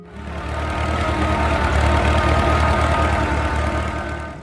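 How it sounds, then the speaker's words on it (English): A Fordson Model F tractor's four-cylinder gasoline or kerosene engine runs with a loud, steady, low chugging throb, close and rough-edged, rising in at the start and easing slightly at the end. "The Fordson Model F was powered by a 4-cylinder gasoline or kerosene engine"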